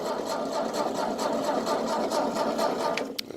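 A Ford 2N tractor engine runs with a rapid, even chugging at close range, steady and loud, ending with a sharp click, and nobody speaks.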